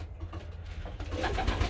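A pigeon hen coos softly in a loft, a few low, rounded coos close by against quiet background noise.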